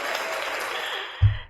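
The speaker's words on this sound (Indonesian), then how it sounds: "kasih tepuk tangan dong" Applause from an audience at an organizational innovation forum in Makassar, a broadband wash of clapping running steadily for over a second before a low thump near the end.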